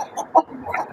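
A native country hen clucks on a rooftop terrace spread with soil, giving a few short, close clucks in quick succession within about a second.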